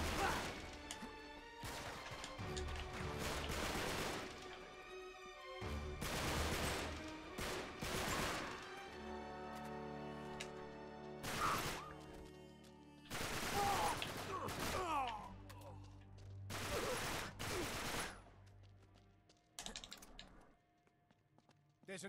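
Gunfire in the action video game Uncharted 3, a series of loud, sharp shots in separate bursts with quiet gaps between them, echoing over the game's background sound.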